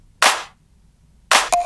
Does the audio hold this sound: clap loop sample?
yes